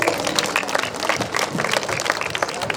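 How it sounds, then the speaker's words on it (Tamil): An audience applauds at a Kongu Oyilattam folk dance troupe event in Karaikurichipudur, with dense, steady clapping from many hands close by and no break. "கைத்தட்டி உற்சாகப்படுத்தலாம்."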